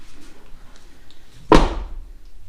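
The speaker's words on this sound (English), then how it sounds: "close your door up" A single car door on a Mitsubishi Evolution 5 being worked on is closed, giving one solid close thump after a quiet lead-in.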